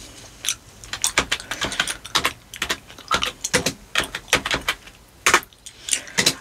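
Quick bursts of clicks on a computer keyboard, typed unevenly in short clusters with brief pauses between, close and crisp in a quiet office reception setting.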